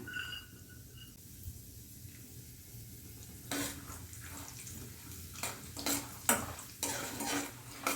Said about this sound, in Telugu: దీనిలోనే కొన్ని పల్లీలు కూడా వేస్తున్నాను